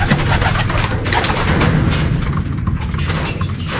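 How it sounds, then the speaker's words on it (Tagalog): Pigeons in racing training coo steadily and loudly up close, a dense layered flock sound with soft thumps and wing movement mixed in, and no voices. "Ayan sila mga kalapatids."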